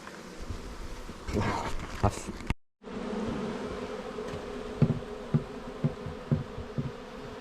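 Bees buzz around a hive during a spring inspection in a dense, continuous drone, with occasional louder passes of individual insects close by and a brief gap of silence.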